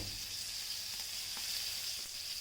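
Spices fry in hot oil over a clay stove, giving a constant dense hiss with a faint scrape or two of stirring, even and close throughout.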